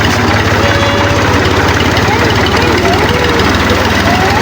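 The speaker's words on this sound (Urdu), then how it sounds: "یہ ٹریکٹر نکل آئی ہے" A 76-model tractor engine runs loud and close at the start of wheat sowing, a steady low throbbing chug with constant mechanical rumble and no breaks.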